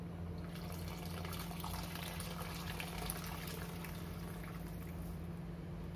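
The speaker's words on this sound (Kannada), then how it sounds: "ಬಿಸಿನೀರು ಹಾಕ್ತಾ ಇದ್ದೀನಿ" Hot water poured into a pot of hotel-style dum biryani makes a soft, continuous rushing and bubbling wash that stays faint and even from start to finish.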